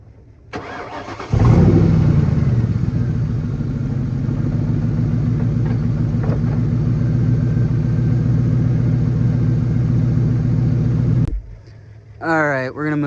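A Ford Mustang with a 4.6 engine cranks and catches, then idles in a steady, loud rumble for about ten seconds before cutting off, with a voice speaking briefly afterward.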